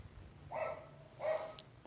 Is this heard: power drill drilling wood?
no